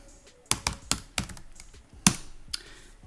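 Fingers type a short command on a computer keyboard in a terminal, giving a handful of sharp, close key clicks in an uneven rhythm with quiet gaps between them, heard alone without speech.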